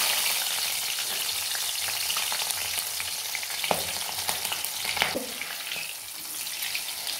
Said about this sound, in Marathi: तेलामध्ये मिरच्या फ्राय करून घेणार आहोत